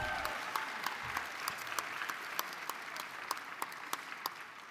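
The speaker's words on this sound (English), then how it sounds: "Ms. Lottie Shackelford and the Women's Caucus invites all veterans to stand as we applaud you." An audience claps steadily at a DNC Women's Caucus meeting during a political convention in Chicago, a sustained wash of applause in a large hall with sharper individual claps standing out.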